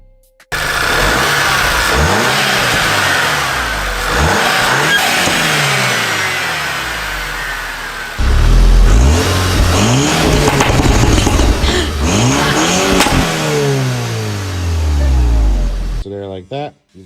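A VW MK6 GTI fitted with an APR carbon fiber intake revs hard and repeatedly, rising and falling sweeps over a loud, close engine note lasting the whole stretch, with talk underneath.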